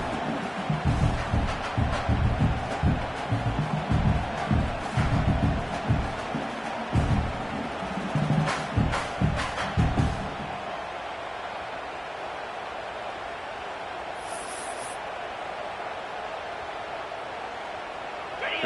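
Stadium crowd at an American football game roars steadily during a final possession, a broad sustained wash of cheering with bursts and surges for about ten seconds, then dropping to a quieter, thinner crowd murmur.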